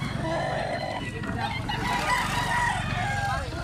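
An old farmer's rooster crows nearby on a vegetable farm, the long call running over steady outdoor background noise and faint voices.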